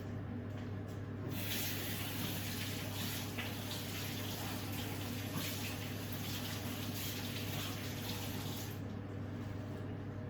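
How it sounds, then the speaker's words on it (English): Hands are washed under a running tap while making challah dough, a steady close rush of water with splashing in the middle and no talk. "then I'm just gonna wash my hand"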